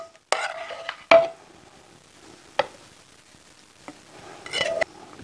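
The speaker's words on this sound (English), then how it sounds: "Spoon in the salsa" A spoon clinks against a dish and scrapes as warm tomato salsa is ladled over woodfired fish fillets, with a few separate sharp knocks spread out over near silence.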